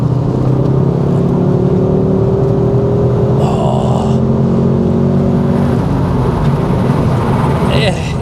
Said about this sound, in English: the Cupra is definitely strong through the revs towards the red line